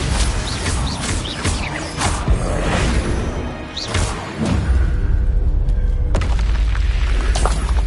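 Bombarda explosion spell cast in Hogwarts Legacy, a loud booming blast with crashing debris and whooshes, followed by a sustained heavy roar of rumbling impact that stays loud to the end.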